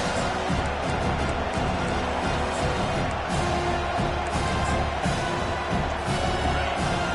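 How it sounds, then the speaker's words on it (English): Dense stadium crowd roar in a Madden football video game, a loud continuous wash of cheering with no clear breaks, heard without talk. "listen to this crowd noise. This stadium is vibrating."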